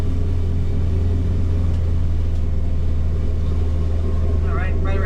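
The engine of the motor vessel Do It Now, throttled down to 2400 RPM, gives a loud, steady low rumble with constant throb, while a voice briefly speaks near the end.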